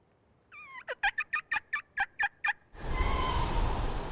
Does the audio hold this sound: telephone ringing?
no